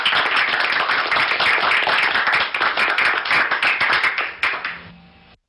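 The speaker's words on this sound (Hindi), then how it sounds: "तालियां" Lively clapping from an audience at an event launching an e-magazine, many hands in a dense, close rattle that stays strong for several seconds, then thins out and fades to a few last claps.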